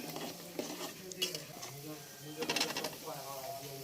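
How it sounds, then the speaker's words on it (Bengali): Turmeric, chili powder and salt sauté in a pan with soft sizzling and repeated scraping, clinking strokes of a spatula. A voice talks over the cooking throughout. "হলুদ মরিচের গুঁড়ো এবং লবণকে একটু ভালো করে কষিয়ে নিচ্ছি"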